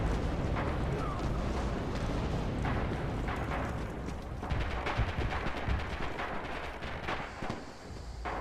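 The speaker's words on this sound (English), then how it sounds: "Currently under fire from someone" Gunfire and artillery in the Red Orchestra video game rumble on steadily, with scattered rifle cracks and distant booms layered over a constant battlefield roar, faint speech mixed in.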